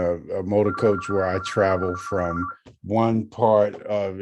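A telephone rings with a steady electronic tone under a man's continuous close speech. The ring cuts off midway and is followed by more talking.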